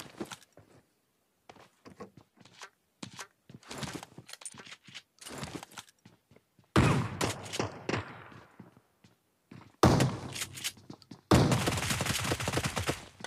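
Shotgun and UMP45 fire in the PUBG video game come in sharp, scattered shots early on, then heavier sustained bursts of rapid gunfire in the second half, loud and close, with no speech.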